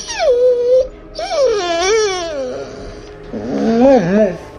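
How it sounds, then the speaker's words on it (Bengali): A dog howls mournfully in long, wavering, crying tones, loud and close, in three drawn-out rising and falling cries. "সামনের দিকে একটা কুকুর কান্নার সুরে ডেকে উঠল"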